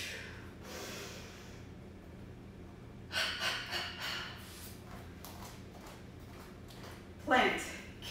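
Faint, soft exhaled breaths during a yoga class, a couple of breathy gusts separated by quiet room tone, with a louder sharp exhale near the end.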